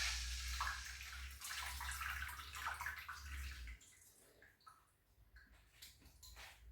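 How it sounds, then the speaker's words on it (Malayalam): Tamarind water squeezed and poured into a cooking pan, a continuous close splashing pour for several seconds that tapers into softer drips and small clinks. "എന്നിട്ട് അത് ഇങ്ങനെ അങ്ങോട്ട് പിഴിഞ്ഞെടുത്തിട്ട് നമ്മൾ ഈ പാനിലേക്ക് അങ്ങോട്ട് ഒഴിക്കുക."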